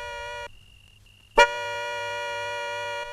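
A car horn sounds in a 2001 Hindi film scene, a sustained tonal blare that cuts out briefly and then returns louder after a sharp attack, holding steady until near the end.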